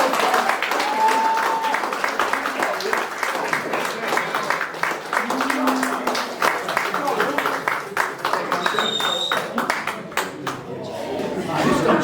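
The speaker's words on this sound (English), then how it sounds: "Just stop cheering." A crowd at a club awards presentation cheers, claps and chatters continuously, a dense, loud wash of applause with scattered whoops and laughter throughout.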